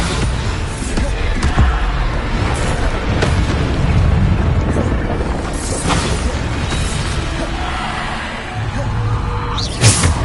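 Repeated Bombarda explosion spells in Hogwarts Legacy go off as loud, deep booms and crashes, one after another across a busy combat stretch, mixed with other impact effects.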